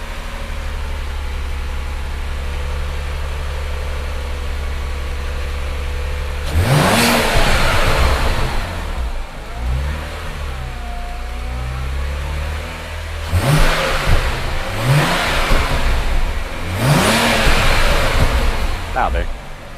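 BMW N54 335i engine fitted with a Chinese 17T hybrid turbo, running rough on first start, steady idle drone then several loud revs rising and falling, with people talking nearby.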